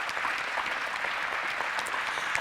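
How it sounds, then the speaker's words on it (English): Steady applause from an audience at an aviation flight training awards ceremony, dense and continuous clapping at moderate distance, filling the whole stretch without talk. "let's have a round of applause for his success"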